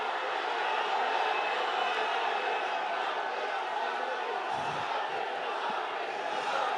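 An audience at an Urdu mushaira poetry gathering in Oman fills the hall with steady, dense cheering and applause, loud and continuous throughout and with no clear voice standing out.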